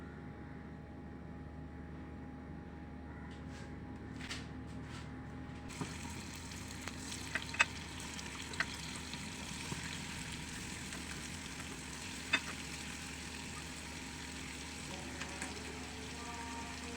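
Prawns fry in a small amount of oil in a home kitchen, giving a steady, moderate sizzle throughout, with a few faint clinks and taps from utensils.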